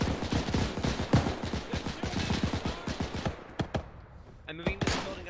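Rapid bursts of gunfire from a D-Day airborne combat video game, with dense repeated automatic shots followed by a few sharper single cracks and sparser reports, loud and close.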